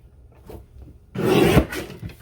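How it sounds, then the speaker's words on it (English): A paper trimmer slicing through a scrapbook kit page, heard as a close, loud scraping rasp of the blade drawn across the paper after a few soft handling sounds, with no talking. "So I'm going to trim this at 7 1/4,"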